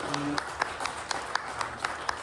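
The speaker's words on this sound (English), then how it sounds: "we get one more round of applause for everybody up here." Sparse, scattered clapping from a small group, with individual claps audible as distinct sharp bursts rather than a dense roar; a faint tone at the start.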